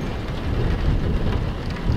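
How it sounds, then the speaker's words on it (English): Steady rain in a Roblox game, a dense, even hiss of falling drops with a low rumble beneath, constant and fairly loud throughout. "Oh, it's raining."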